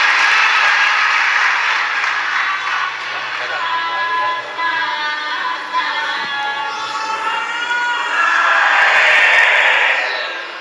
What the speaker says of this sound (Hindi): एक बार जोरदार ताली बजाकर साथ ये बेटे बहू।